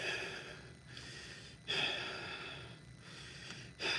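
A voice imitates heavy breathing heard over the phone, giving loud, rough snorting breaths and gasps in a few repeated bursts with short pauses between them.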